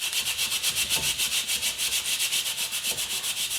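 Hand glaze rubbed by hand onto the chrome of a 1974 Yamaha RS100, a steady rhythmic back-and-forth swishing of cloth on metal, close and fairly quiet, repeating about five strokes per second with no talk.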